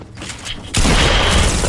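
Pump shotgun blast in Fortnite, a single loud close shot erupting after a quieter moment and ringing out broadly for over a second.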